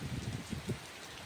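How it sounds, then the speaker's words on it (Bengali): Steady rain patters on surfaces, a soft continuous hiss with scattered drops, fairly faint and without voices. "দেখো বন্ধুরা, দেখো কীরকম বৃষ্টি হচ্ছে চারদিকে।"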